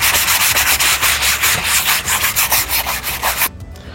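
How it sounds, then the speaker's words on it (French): A rough surface being hand-sanded before gesso is applied, heard as loud, close, rapid rhythmic back-and-forth scratchy rubbing strokes that stop abruptly near the end, with no talking. "vu que c'est très rugueux, c'est de poncer un petit peu."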